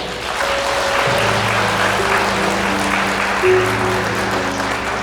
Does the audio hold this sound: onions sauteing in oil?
no